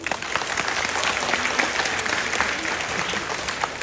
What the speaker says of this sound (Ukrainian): Окремі оплески.